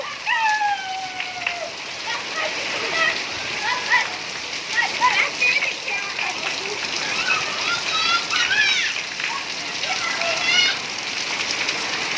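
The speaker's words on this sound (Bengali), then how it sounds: "সেই বৃষ্টি রে, এই বৃষ্টিতে গোসল করে যে মজা" Steady rain pours down as a broad, even hiss close around, with people's voices and a few high calls rising over it now and then.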